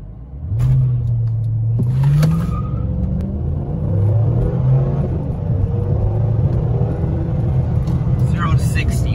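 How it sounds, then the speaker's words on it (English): A car with a 5.7-liter engine launches hard in second gear with traction control off, its deep rumble climbing in pitch as it accelerates, then holding a loud, steady drone close by. "So I'm gonna knock my car down to second gear. Traction control off,"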